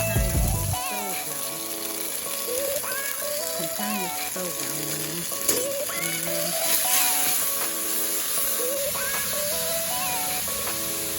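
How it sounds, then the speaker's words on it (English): Garlic, mushrooms and onions fry in hot oil in a pan, giving a steady, close sizzling hiss under a background voice. "I have the mushrooms and onions with the garlic and oil lining the bottom. I'm going to let those start to cook down"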